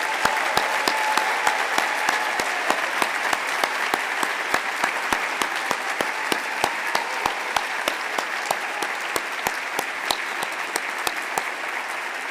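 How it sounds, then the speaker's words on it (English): Sustained audience applause fills a white coat ceremony hall for a pharmacy class, steady dense clapping with sharp individual claps standing out, continuous for about twelve seconds with no talking. "let's give one more round of applause for our class of 2029."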